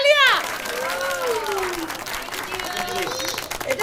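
A small family group claps during birthday gift-giving at home, producing a short burst of applause beneath overlapping children's and adults' voices.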